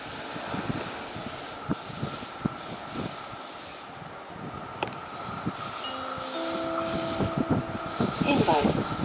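A DB class 112 electric locomotive train rolls into a station, its rumble and clattering wheels building steadily, with a brief horn-like tone and rising squealing brakes near the end, while station voices carry over the noise.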